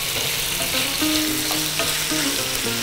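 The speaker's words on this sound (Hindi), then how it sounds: "बस इतना ही भूनना है जी। देखो ये गया चिकन, ये गई सब्जी।" Chicken and vegetables fry in a pan, giving a dense, steady sizzle with faint stirring and scraping close by.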